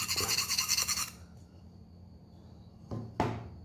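Steel knife blade rasping across a sharpening stone in a steady run of strokes, then a pause with low background hum and two short, sharp scraping passes near the end.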